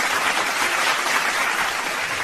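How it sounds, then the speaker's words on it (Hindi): Dense, loud applause from an audience at a Hindi poetry gathering welcoming a poet, a continuous wash of many clapping hands close to the microphone with no speech. "एक बार जोरदार तालियों से उनका"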